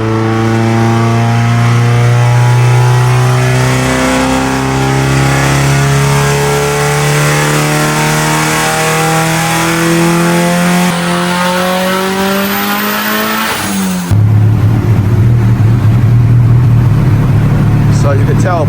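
A turbocharged Mitsubishi Evo accelerates hard on a power pull, its engine note climbing steadily in pitch for about fourteen seconds, then dropping abruptly as a gear change hits and the revs build again, loud and close throughout.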